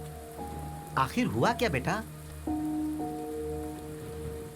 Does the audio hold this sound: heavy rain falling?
yes